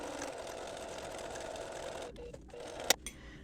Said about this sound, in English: And I'm going to start sewing here.